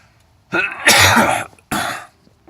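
Two harsh coughs, the first a drawn-out hacking burst and the second a short one, close to the mic with quiet pauses around them.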